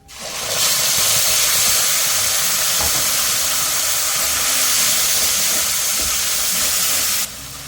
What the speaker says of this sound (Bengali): মশলাটা কষিয়ে নিচ্ছি, এই তেল ছেড়ে যাবে